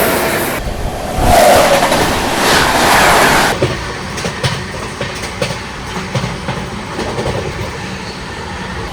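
Bangalore Rajdhani Express train rushing past at high speed on an Indian railway line: a loud close roar for a few seconds, then a steady rhythmic clatter of wheels over rail joints as the coaches go by.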